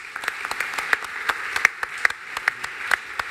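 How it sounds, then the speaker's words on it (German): At a panel discussion on an energy grid forum stage, a modest audience gives applause: sparse, uneven claps with distinct sharp hand strikes standing out over a light clapping bed, fairly close and unaccompanied by speech. "Ein Applaus auch für dich."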